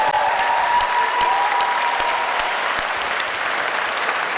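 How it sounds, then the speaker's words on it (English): A comic convention panel crowd gives loud, sustained applause for actor Sylvester McCoy, a thick continuous roar of clapping with a few sharper individual claps standing out. "This is your applause, the amazing Sylvester McCoy!"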